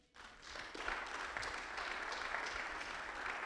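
A church congregation breaks into applause for the Lord during a sermon, the clapping swelling quickly and then holding as a steady, somewhat distant wash of many hands.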